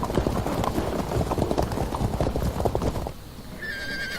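Horses' hooves clip-clop in a rapid, dense trot alongside whinnies as cavalry units move forward in the strategy game Field of Glory 2, fading out near the end to a quieter tone.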